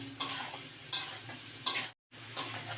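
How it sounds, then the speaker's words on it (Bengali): Radhuni seed paste being stir-fried with vegetables in a pan for Bengali shukto: a sizzling hiss with four sharp scraping strokes of a spatula at a regular pace, close by, with a brief cut near the end and no voices. "আর এর মধ্যে দিয়ে দেব রাঁধুনি পেস্টটা ভালো করে আবার সমস্ত কিছুর সাথে কষিয়ে নেব"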